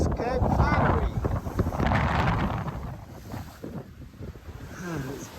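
Hard wind of around 20 knots buffeting the microphone aboard a sailboat broad reaching toward Cape Flattery, gusty roaring rush with water noise, voices talking over it.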